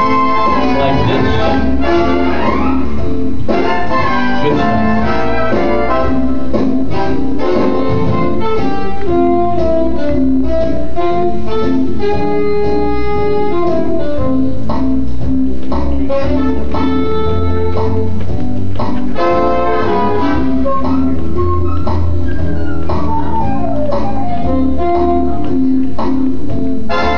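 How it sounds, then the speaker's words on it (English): A big band plays a song, with brass and rhythm section sounding full and continuous at steady loudness and no voice over it. "The big band sounds like this."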